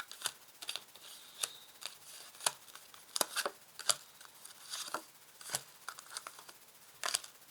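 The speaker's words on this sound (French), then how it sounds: "Alors là, je place 5 cartes." Tarot cards being laid out one by one on a table: a series of soft, crisp slaps and brief sliding rustles at irregular intervals, close and quiet, with no talking.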